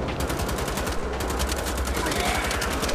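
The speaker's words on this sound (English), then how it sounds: "That's the shotgun." Rapid, rhythmic gunfire in Wolfenstein: The Old Blood, a steady string of close, loud shots that runs without pause through the whole stretch.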